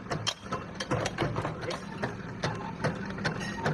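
A 10-ton hydraulic press trims the edges of motorcycle exhaust end caps in a factory, making a dense, continuous clatter of rhythmic metallic clanks and mechanical ticking close by.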